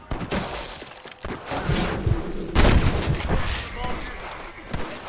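Gunfire in the Western video game Red Dead Redemption: a burst of loud shots and impacts, with a heavy blast near the middle, under character voices and game effects.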